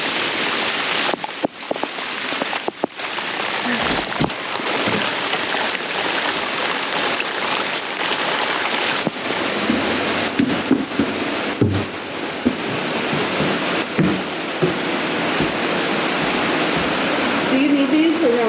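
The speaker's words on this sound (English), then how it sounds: "We're dealing with a little river outside." Heavy rain pours outside with running water, a dense, constant rushing hiss that never lets up, with occasional thumps and rustles over it.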